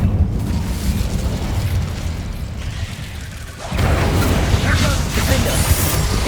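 A fiery Incendio spell blast in Hogwarts Legacy erupts into a loud, broad roar that swells midway and keeps rumbling, with game noise and a voice underneath.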